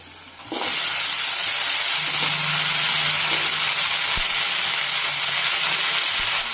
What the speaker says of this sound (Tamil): பாவக்காய் சேர்த்து ஒரு ரெண்டு நிமிஷத்துக்கு நல்லா வதக்கிக்கலாம்